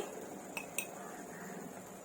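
A metal spoon clinks twice in quick succession against a pan as a quarter spoon of turmeric goes into a spicy drumstick and potato curry, faint sharp taps over a quiet background hiss.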